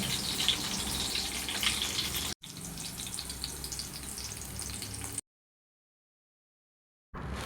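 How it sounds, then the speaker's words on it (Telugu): Chopped green chillies fry in oil with a steady, crackling sizzle, broken by a brief cut and then several seconds of silence before it returns. "ఇప్పుడు అదే ఆయిల్లో కట్ చేసి పెట్టుకున్న పచ్చిమిర్చి వేసుకోవాలి."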